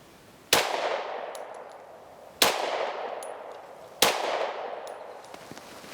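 Three sharp Taurus G3 pistol shots fired about every one and a half seconds, each a loud crack with a ringing tail that fades before the next, with faint metallic pings in between and no talking.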